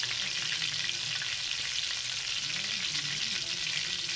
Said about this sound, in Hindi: तो आपने इसको बिल्कुल दरमियानी आंच के ऊपर जो है ना फ्राई करना है